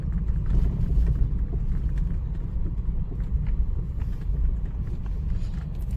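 A farm tractor rumbles as it drives away, its low engine drone steady and fairly loud before slowly fading a little.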